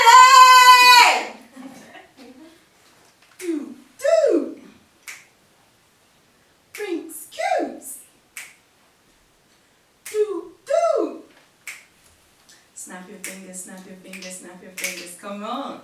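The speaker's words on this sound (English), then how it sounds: "Come on, snap your fingers" Several sharp finger snaps land among expressive vocal sounds and short bursts of voice, starting with a drawn-out wail and ending with a buzzy, rumbling passage.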